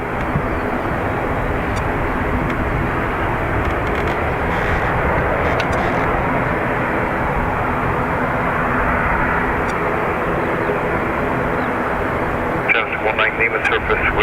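Jet airliner flight EI 3192 departing Dublin Airport for Liverpool, a loud sustained roar of engines close by, with faint voices on the radio under it.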